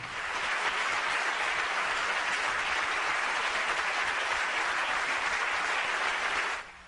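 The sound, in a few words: standing ovation in the Catalan Parliament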